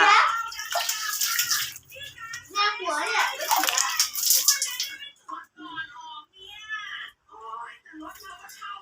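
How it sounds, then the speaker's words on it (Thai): Water splashes close by as a face is washed with soap, with bursts of wet sloshing and dripping; someone talks over much of it. "มาล้างหน้ากันเลยค่ะ"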